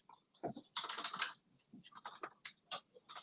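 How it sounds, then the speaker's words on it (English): Someone types on a computer keyboard, giving a fast, uneven stream of soft, close key clicks with short pauses. Traffic is faint and there is no talk over it. "sorry about the typing"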